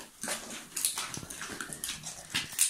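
Seven-week-old puppies whimpering and squeaking in short, high, irregular bursts, faint and close, with light rustling between cries.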